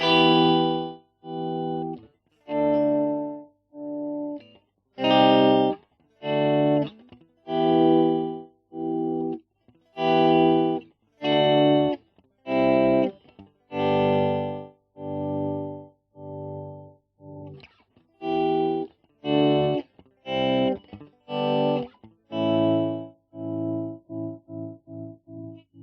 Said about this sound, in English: So up here you've got more of your volume swell sort of sounds.